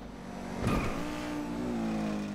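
An Osiris supercar in the racing game GTA V Online accelerates hard, its engine rising to a loud revving whine with a brief rushing swell, held at a steady high pitch.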